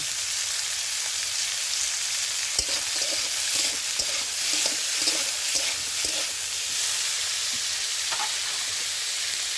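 Chowmein ingredients fry in a pan with salt and turmeric, giving a dense steady sizzle with soft stirring scrapes and occasional taps, no speech.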